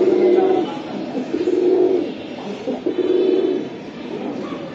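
Pigeons at a pigeon farm coo in a steady, close run of repeated low calls that swell and fade in rounds, with people talking over them.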